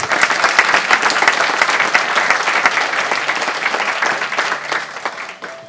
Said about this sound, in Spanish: Vamos a aplaudir al Señor en esta noche.